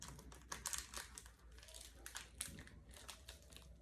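A plastic package of Japanese snack is crinkled and tugged while being opened, giving soft, irregular close-up crackles and rustles at low volume.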